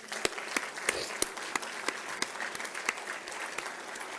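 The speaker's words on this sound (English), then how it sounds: "So I would like us to applaud each other for that." An audience at a college state-of-the-college address applauds, a steady patter of many hands with sharper individual claps cutting through, sustained for several seconds at moderate distance.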